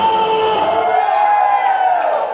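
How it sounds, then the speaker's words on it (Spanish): A church congregation shouts and cheers for joy during a lively worship service, a loud sustained wall of crowd voices with whoops, holding steady throughout. "¡Un grito de júbilo!"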